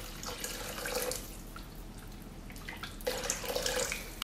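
Water pours and splashes into a pan of Manchurian chicken sauce, a steady liquid rush that eases off midway and then surges again louder near the end, with no voices.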